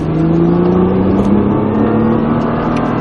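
A Nissan GT-R Nismo's engine roars steadily and loudly as it accelerates on the Chambley race track, the pitch climbing smoothly over a few seconds, close by.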